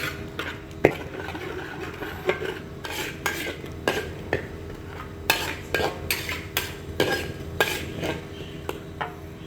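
Spoon scraping and stirring through spice paste being sautéed in a pan with coconut milk for a young jackfruit curry, a string of clear, close clinks and scrapes in an uneven rhythm over a soft background hiss.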